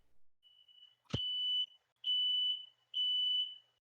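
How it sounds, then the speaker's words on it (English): A fire alarm beeps three times in a steady rhythm, each beep long and high-pitched, with a sharp thump at the start of the first one. The beeps sound clear and fairly close, and no one speaks over them. "Oh god, fire alarm."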